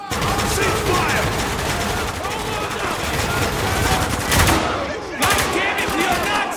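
Gunfire in Spec Ops: The Line, dense automatic bursts and single shots rattling almost without pause, loud and close, with shouted voices mixed in under the shooting.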